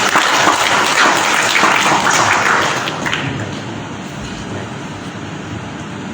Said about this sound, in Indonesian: kita berikan aplaus kepada Tuan Guru